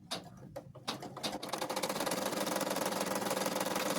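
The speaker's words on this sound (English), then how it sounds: "Now we're going to stitch the sewing stitch." An embroidery machine stitches cloth doll pieces, starting with a few separate clicks and short bursts before settling into a steady, rapid mechanical chatter that holds close and constant.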